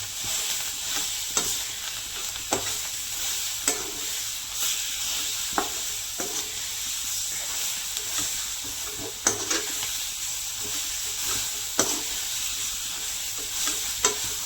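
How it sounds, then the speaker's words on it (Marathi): Onion and green chili, along with smashed brinjal for bharit, are sautéed in a pan, producing a continuous sizzle broken by repeated sharp scrapes and taps of a spatula against the pan at an irregular stirring pace. "आता चांगलं त्या मिरची कांद्यामध्ये चांगलं परतून घेऊया"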